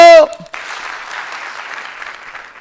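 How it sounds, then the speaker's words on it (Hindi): A crowd at a network marketing training session claps once on cue, a brief burst of massed applause right after a loud spoken word, then a short, steady, rustling wash that fades slightly. "जब भी मैं हेलो बोलूंगा आप एक बार ताली बजाएंगे"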